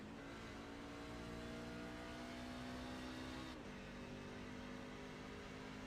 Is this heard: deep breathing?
no